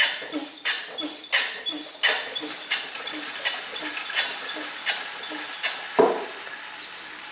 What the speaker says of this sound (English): Pump the can up a couple more times, and then keep scavenging the oil out.